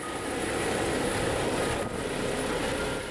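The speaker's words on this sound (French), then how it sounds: "En moins de 10 minutes, l'hélicoptère décolle." A Rega rescue helicopter takes off, its engine and rotor making a loud, steady roar that stays constant throughout and is heard alone without voices.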